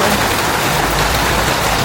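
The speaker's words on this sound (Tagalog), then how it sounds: "Grabe, sobrang lakas na ng ulan." Heavy rain pours down steadily, a dense, loud, unbroken hiss with no pauses.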